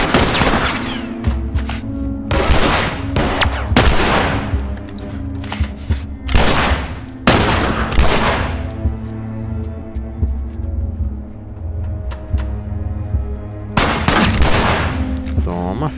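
Repeated loud shotgun blasts ring out in a dark stretch of The Last of Us, coming in irregular bursts with echoing tails between them over a low, throbbing game soundtrack.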